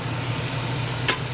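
A dish cooking with half a bottle of alcohol sizzles steadily and close in an RV kitchen as the liquid cooks off. A brief metallic clink sounds near the end, and no one speaks.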